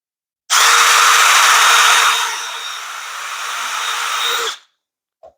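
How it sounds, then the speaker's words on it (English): A power drill bores holes in a small garden tower, a loud steady whine that drops slightly in pitch partway through as it cuts, then stops abruptly, followed by a faint tap. "we're going to open it up and we're going to drill right in the center."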